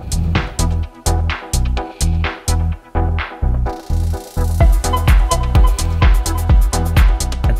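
Pro-level techno track with a steady four-on-the-floor kick, layered percussive hits and synth stabs, played loud and alone with a brief filtered breakdown midway before the full beat returns.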